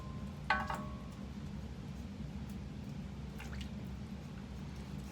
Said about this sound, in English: Just kind of stir it all up there.